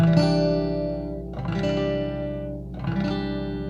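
An electric guitar strums a chord three times, each strum ringing out with effects-laden sustain and a shimmering, slightly distorted tone.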